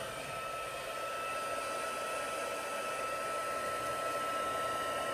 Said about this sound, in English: And we're gonna heat up our embossing heat tool.